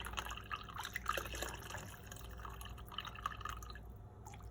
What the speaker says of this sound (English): You could tilt this and then just strain it.